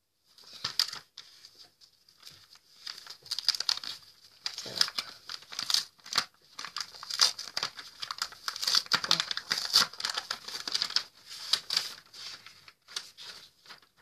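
A paper letter is handled and unfolded close up, giving a run of crisp crinkling and rustling with brief tearing-like scrapes in uneven bursts throughout, with no voices.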